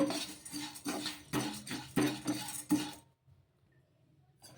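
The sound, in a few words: stirring oats while dry-roasting in a kadai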